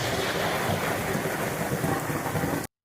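Heavy thunder rumbles on continuously, mixed with dense rain, loud and close for nearly three seconds before the sound cuts off abruptly.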